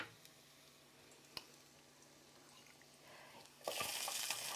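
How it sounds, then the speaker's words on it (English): Plain green cabbage tipped into a hot pan, a few soft taps and clicks, then a sudden loud sizzle and hiss of frying that carries on steadily to the end. "So I'm going to put the cabbage in first."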